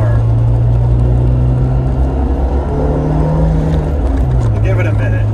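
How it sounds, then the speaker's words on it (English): An Audi engine fitted with stage 2 engine mounts, running rough with a deep, steady droning hum and shifting low tones, heard loud and close from inside the car while someone talks over it. "I don't know if it's supposed to be like this or if the exhaust is hitting the frame, but this is like brutal."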